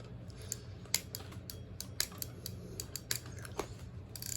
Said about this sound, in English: Now you can just cut the excess line off.